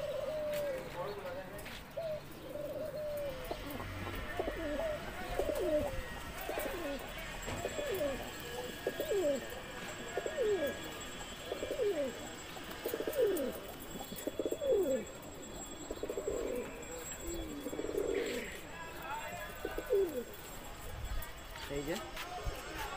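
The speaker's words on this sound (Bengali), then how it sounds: "আরেকটা নর কবুতর, একই ব্লাডের কবুতর।" Male pigeons of the same bloodline, crested show pigeons kept for sale, coo in a repeated rhythmic series of low calls over a steady hum, with background voices talking throughout.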